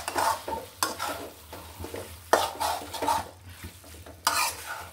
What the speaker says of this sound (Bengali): এটা সুন্দর করে ভাজি করতে হবে।